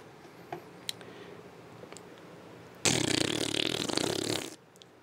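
A mouth imitating a fart gives one buzzing, sustained blurt lasting about two seconds, loud and close. Before it come a few faint clicks over quiet room noise.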